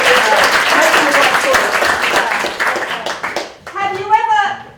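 Comedy club audience at a Leicester Comedy Festival show applauding, a loud dense burst of clapping for about three and a half seconds that tapers off before a comedian resumes talking.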